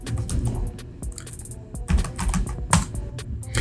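A search word is typed on a computer keyboard in quick, irregular clusters of close, crisp key clicks lasting a few seconds, with no voice over it.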